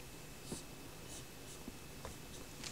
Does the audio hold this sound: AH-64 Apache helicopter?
no